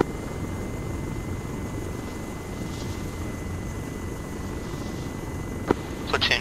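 Helicopter flying in the military video game Arma 3, a steady low rotor drone holding level throughout, with a few brief sharp clicks and taps near the end.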